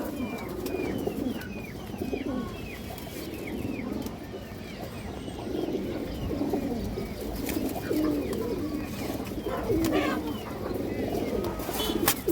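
Pigeons, including high-flyer and Pakistani breeds offered for sale, coo steadily in soft overlapping murmurs with scattered chirps, close by, against a busy background with faint voices.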